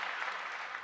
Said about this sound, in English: Can you even hear the applause?